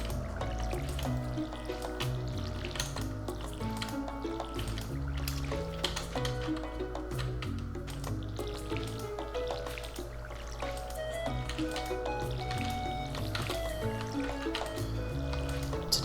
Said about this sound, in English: we're going to water some crops here